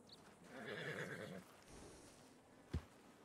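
A horse in a role-play video game whinnies loudly in a long, quavering neigh, followed by quieter rustling and one sharp thump near the end, with no talk.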